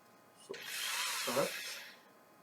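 A power sander works on a turned wooden bowl, a brief whirring, rubbing burst of about a second and a half that rises and fades, fairly quiet and close.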